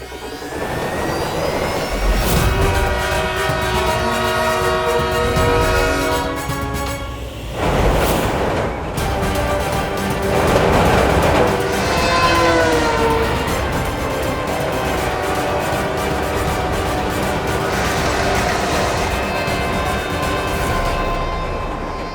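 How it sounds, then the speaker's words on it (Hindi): A train thunders past for over twenty seconds in a loud, continuous rumble with a rushing roar that swells and eases, heard close and with no voices. "कहीं ट्रेन ने बालवीर को कुचल दिया तो?"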